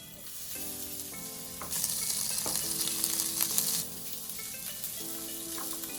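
Asparagus sizzles steadily in a hot frying pan after pan-seared salmon, a close, continuous crackling hiss that swells louder midway, with background music tones running underneath.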